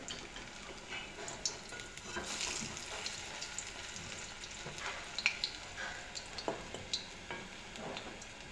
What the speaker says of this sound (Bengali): তেল গরম হয়ে গেছে, বড়াটা ছেড়ে দিলাম।